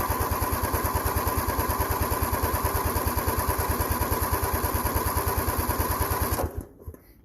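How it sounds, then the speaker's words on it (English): Craftsman LTX1000 lawn tractor engine cranking on the starter in a steady fast rhythmic chug for over six seconds, loud and close, then stopping abruptly into near silence. "I'll give it short bursts because you don't want to overheat the starter."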